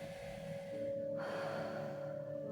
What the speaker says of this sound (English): Exhale again, breathe in.